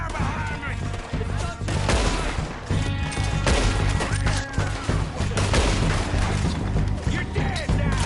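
A heavy gunfight in Red Dead Redemption 2: overlapping gunshots, booms and crashes pile up in a loud, dense barrage that barely lets up, with shouting mixed into the chaos.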